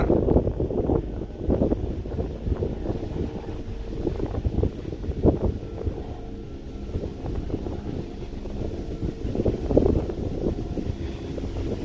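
Gusty outdoor wind buffets the microphone in an uneven, low rumbling roar that swells and eases throughout, with no voices.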